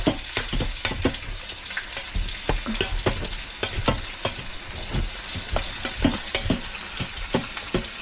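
Shrimp fry in a pan while a utensil stirs them, making a steady sizzle broken by repeated close scrapes and knocks against the pan, with nobody speaking.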